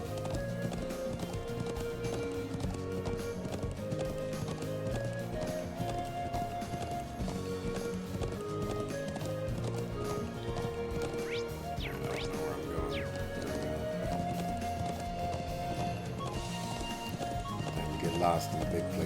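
Horse hooves clip-clop at a steady running rhythm while riding in the video game Trails of Cold Steel, with game music underneath and someone talking over it throughout.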